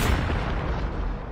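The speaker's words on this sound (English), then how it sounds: "Those two clowns got into the cannon that Man Moth aimed right at Miniantoinette and shot them right after her." A circus cannon fires two clowns in a brief burst, a deep, loud boom with a broad rumbling rush that decays quickly over about a second.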